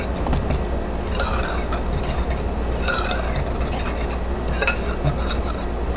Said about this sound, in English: we want to incorporate, blend that well, distribute it really good through the flour